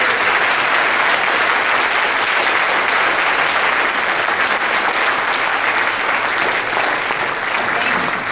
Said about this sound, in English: Let's give our candidates a big round of applause.